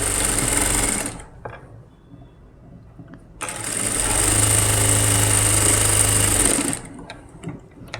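A sewing machine stitches an umbrella gown, whirring loudly in two bursts: about a second at the start, then a long steady run of roughly three seconds after a quiet pause, stopping near the end.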